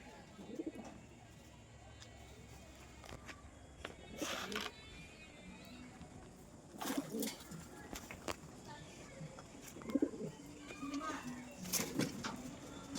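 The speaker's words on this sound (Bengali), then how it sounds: "এই যে সব পায়রাগুলো কিন্তু খাচ্ছে" Pigeons coo softly in short bursts while eating, with wing flaps and scattered chirps nearby, while a voice talks quietly in the background.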